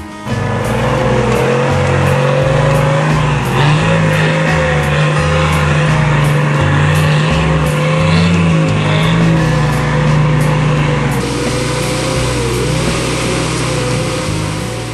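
A Nissan Patrol 4WD drives off-road with a steady, loud engine drone that rises and falls as it revs, close by with no talking.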